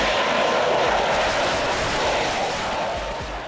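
Loud, sustained roar of a vertical takeoff airplane's engines, a dense steady blast close by that eases slightly toward the end.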